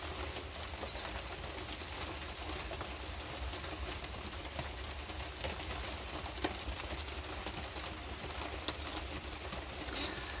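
Pigeons in a loft coo softly and repeatedly against a steady hiss of rain on a wet day, the calls low and fairly close with occasional light rustles.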